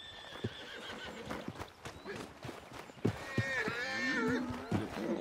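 Horse in Red Dead Redemption 2 whinnying loudly with a long wavering neigh near the end, preceded by clip-clopping hooves and snorts at close range.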